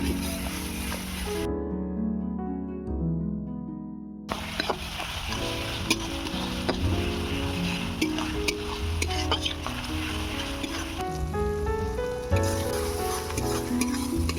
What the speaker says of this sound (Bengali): রসুনটাকে এবারে ভালো করে ভেজে নেব